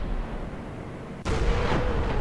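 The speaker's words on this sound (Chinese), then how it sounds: "我一炮就秒了，爆了他的弹药架" A tank cannon shot in War Thunder sets off an enemy tank's ammo rack, a sudden loud blast followed by a rumbling, crackling explosion over steady engine drone.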